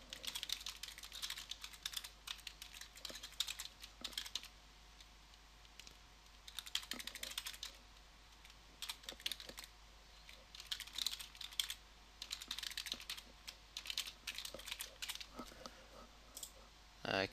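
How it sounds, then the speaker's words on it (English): Computer keyboard typing in rapid clustered bursts of clicks with short pauses between, close and clear, entering a short question; a faint hum sits underneath and no one speaks. "type in a very simple question"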